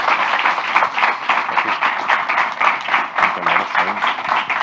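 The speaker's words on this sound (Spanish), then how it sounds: "Os pido un aplauso para las cuatro, por favor" Audience clapping for four panelists at the Crossover festival, a lively patter of hands that runs throughout, with voices and chatter mixed in near the end.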